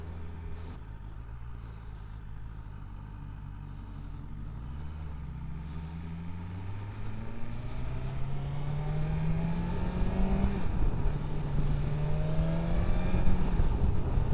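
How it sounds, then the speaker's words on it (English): A 2021 BMW M1000RR superbike's intake roars as light throttle is fed in, rising engine harmonics building steadily louder over about fourteen seconds of riding with wind rush underneath and no talk. "you get a lovely induction noise, even from a tiny bit of throttle"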